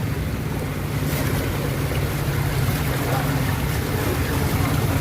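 Floodwater rushes through a flooded village street in a constant loud roar of turbulent water, heavy with broadband wash and wind buffeting on the microphone, close up.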